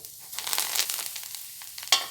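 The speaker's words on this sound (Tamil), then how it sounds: "நல்லா கொதிக்கிற எண்ணெய் ஊற்றுறேன்" Hot oil hits pearl millet pakoda batter with a crackling sizzle that rises and falls, ending in a sharper burst of frying noise.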